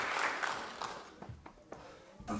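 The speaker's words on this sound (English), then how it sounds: "Give him a round of applause, everybody." An audience at a variety show applauds loudly at first, then the clapping thins out into a few scattered claps before a final short burst.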